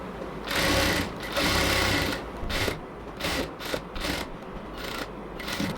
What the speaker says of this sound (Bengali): এবার আমরা পুরো কোমরটাকে আবার ডাবল সেলাই দিয়ে নিচ্ছি।